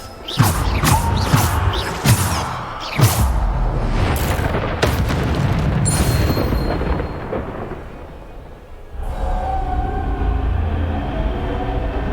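Explosive spells such as Bombarda and Depulso go off in Hogwarts Legacy, booming and rumbling in a dense series of loud blasts for about nine seconds before the din thins to a lower steady wash.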